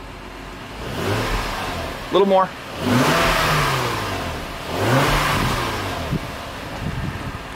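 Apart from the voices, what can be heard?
car engine revving, exhaust note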